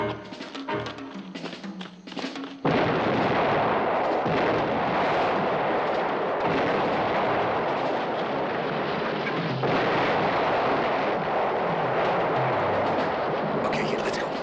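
Sustained heavy artillery fire from howitzers in a war-film scene opens after a short stretch of muffled voices, becoming a dense, continuous roar of booming blasts that runs to the end.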